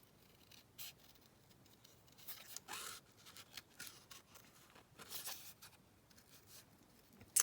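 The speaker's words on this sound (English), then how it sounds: "cut around the oval" Scissors cut out a paper oval in a quiet craft room, faint snips and rustling paper scrapes coming in scattered short bursts, close but very soft, with no talking.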